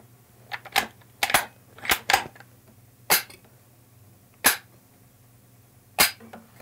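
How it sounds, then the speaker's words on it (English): Dry firing a Mosin-Nagant 1891 CO2 air rifle: six sharp, close mechanical clicks and clacks at uneven intervals over a quiet background, some in quick pairs. "We can dry fire this rifle."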